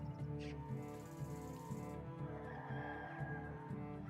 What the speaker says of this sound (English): Those chickens are loud.